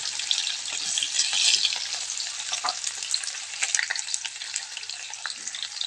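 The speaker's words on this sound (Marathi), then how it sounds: "कांदा छान तळून घ्यायचा आहे" Chopped onion frying in hot oil with mustard seeds and cumin, a steady bright sizzle close by with occasional spatula scrapes, continuous and fairly loud throughout without talk.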